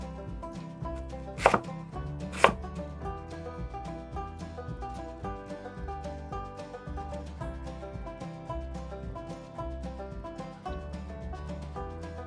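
A knife slices chicken thighs into quarter-inch medallions on a board, two sharp cuts standing out near the start over a steady tonal music bed.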